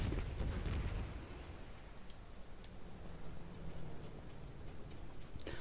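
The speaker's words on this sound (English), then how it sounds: "I wonder how many missiles that is." Missile explosions in the video game OverLag: a heavy burst of low rumbling blasts at the start, settling into a steady crackling, booming barrage that continues at moderate volume throughout.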